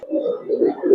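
A coloured Giribaz pigeon coos at a pigeon farm, giving soft low rolling coos in close succession.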